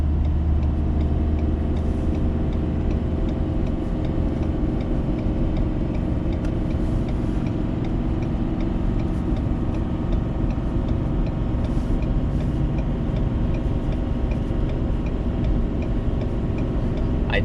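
A Banks Derringer-tuned Ford Powerstroke diesel pickup tows a heavy load at full throttle on a highway, its engine a steady, loud droning rumble under continuous road noise throughout.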